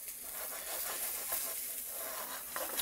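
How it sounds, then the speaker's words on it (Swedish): Farm duck frying in a pan as its fat renders, giving a steady close sizzle and hiss with a few soft stirring scrapes, no voices over it. "Så, börjar steka här, börjar släppa fett lite fint."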